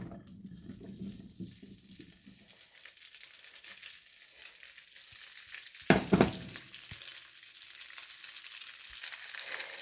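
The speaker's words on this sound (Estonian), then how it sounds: "Nüüd kui pann on kuum, siis kallame peale vorstikesed." Sausages land in hot cooking oil in a pan, giving a soft crackling sizzle, then a brief louder clatter and splashy burst mid-way before the frying settles back to a quiet, steady sizzle with no talking.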